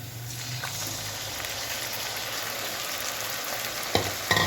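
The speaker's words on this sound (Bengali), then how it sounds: "এবার এতে আমি ম্যারিনেট করা মাংসটা দিয়ে নেব" Marinated mutton sizzles loudly in a pan with browned onions, a dense continuous frying hiss, then a couple of sharp utensil knocks as it is stirred.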